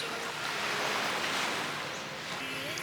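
Ocean surf washes in at a beach on Hervey Bay facing Fraser Island, a broad steady rushing roar with some wind buffeting the microphone.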